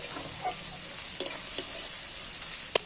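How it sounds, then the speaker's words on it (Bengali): Garlic and ginger fry in a pan, giving a constant bright hiss with occasional scrapes and taps of a spoon being stirred, close and steady without speech. "রসুনটা একটু ভাজতে হবে। আর আদাটা লাস্টে 1 চামচ আদা লাস্টে দিচ্ছি।"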